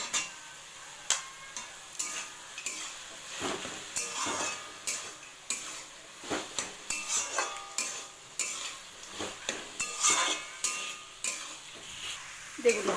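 Nuts and poppy seeds frying in a wok, sticking to the bottom as they toast, with a soft continuous sizzle broken by repeated scraping and stirring strokes of a spatula against the pan, close and fairly quiet.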